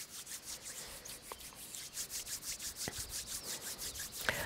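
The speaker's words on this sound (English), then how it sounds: "Rub them together and create a warm friction." Hands rub briskly together during a yoga routine, a soft, close, rhythmic swishing of skin on skin repeating in steady strokes, quiet and alone.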